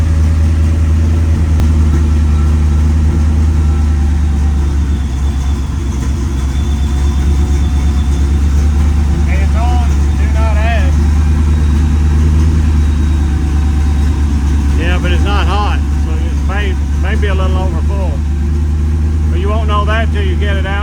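A Ford Lightning pickup truck engine idles to warm up, a loud, steady low rumble running without a break while people talk intermittently close by.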